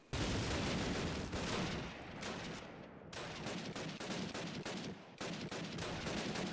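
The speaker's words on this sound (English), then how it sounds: "The guns sound actually pretty nice. They're nice and chunky." Dense rapid gunfire from the video game Call of Duty 1, with overlapping automatic bursts and single shots firing almost nonstop. The firing is loud and punchy with short gaps and no speech over it.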